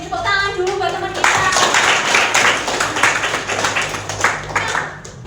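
A room of students clapping together for a classmate at a campus gathering, a dense, close burst of hand claps lasting several seconds, with a voice talking briefly before it starts.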